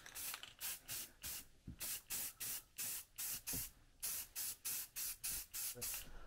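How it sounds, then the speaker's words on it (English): Rust-Oleum self-etching primer sprayed from a rattle can onto a boat propeller, given as a run of short hissing bursts, each roughly half a second long, repeated with brief gaps in an even rhythm, close and fairly quiet. "We're just using the rattle can of Rust-Oleum. It's pretty good stuff, so shake it well."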